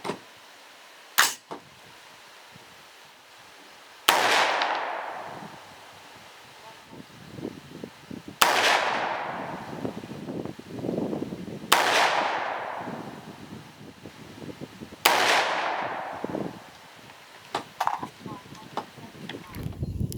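Four sharp 300 Blackout pistol shots fired with cast Lee 312-155-2R bullets over IMR 4227 powder at an outdoor 25-yard range, each a loud crack with a decaying tail, spaced several seconds apart amid wind and faint rustling.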